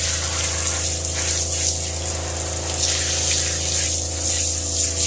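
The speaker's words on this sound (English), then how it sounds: "And we're just going to rinse with fresh water." Fresh water sprays steadily to rinse a dog in a grooming tub inside a mobile grooming van, with a constant hiss over a droning pump hum and no talking.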